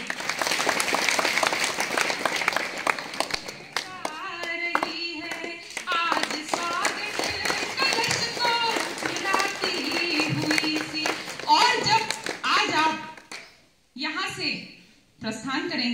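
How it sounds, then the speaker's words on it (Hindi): Audience clapping at a stage performance of a Hindi song by a daughter for her father. The clapping is dense at first, then thins under music and a voice that carry through the rest. "सभी की तालियां चाहती हूँ"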